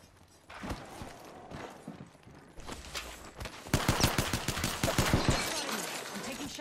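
Gunfire in the video game Apex Legends comes first as scattered bursts, then as rapid automatic fire that builds into loud repeated close shots, with footsteps and faint voices around it.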